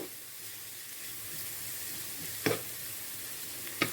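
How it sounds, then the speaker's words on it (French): Onion frying with spices in a pan, a soft continuous sizzle close by, broken twice by sharp scraping knocks as it is stirred, with no talk. "Pour bien faire revenir, bien sûr, mon oignon avec toutes ces épices."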